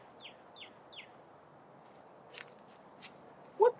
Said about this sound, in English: Y'all hear the birds out here?